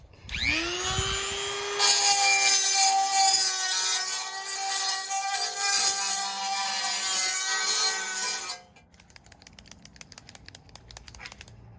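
Edges of a freshly drilled hole in the body of a 2020 Jeep Wrangler being smoothed with a small rotary tool, a steady high whine for about eight seconds that cuts off abruptly, followed by faint scattered clicks and handling noise.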